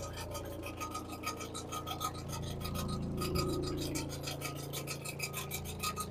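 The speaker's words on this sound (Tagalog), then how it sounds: "Na yung tunog ng washing ko o ng dryer." A household washing machine or dryer running, giving a steady rubbing, rasping churn with regular pulses. It is faint and continuous, with no voices.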